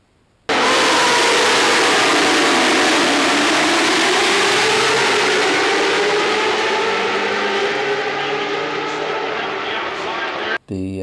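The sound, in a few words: MotoGP prototype racing motorcycle exhaust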